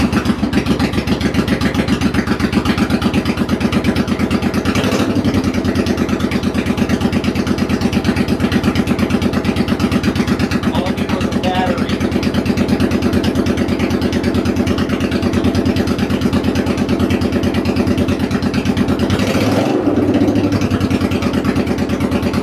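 Honda VT700 motorcycle engine cranked without choke and then running, a loud, steady idle with an even mechanical pulse and a couple of brief throttle blips or clunks.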